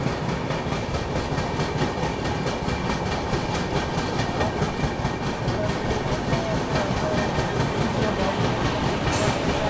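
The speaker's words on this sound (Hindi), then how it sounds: "गटोरा रेलवे स्टेशन फिलहाल हमारी ट्रेन स्किप कर रही है" Humsafar Express passenger train running past Gatora railway station, a steady loud rumble of wheels and rail clatter throughout, with a brief hiss near the end.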